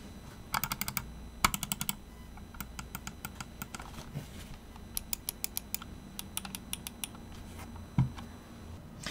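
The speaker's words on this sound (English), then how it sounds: "these buttons have a really nice clicky sound. Let's have a quick listen to what the buttons sound like" Crisp clicks from the side buttons of a Logitech G305 gaming mouse in quick bursts and scattered single taps, close and fairly quiet over a faint background hiss.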